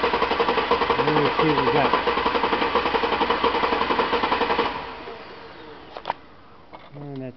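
Car engine cranking with the number 3 spark plug removed, a fast rhythmic chugging from the starter that runs for several seconds and then stops, with someone speaking briefly near the end.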